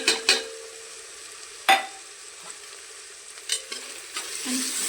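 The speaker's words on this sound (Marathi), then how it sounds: "चांगले मिक्स करून घेऊया" Spices stirred into masoor dal in a pan: a few sharp, close scrapes and taps of a spoon against the pan, separated by quiet gaps, with a soft sizzle near the end.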